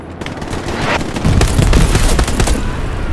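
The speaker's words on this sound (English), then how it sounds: "Just got smoked by artillery." Artillery and gunfire in the Hell Let Loose video game form a dense, loud, continuous barrage with rapid overlapping bangs and rumbling booms, close and without pause and with no talk.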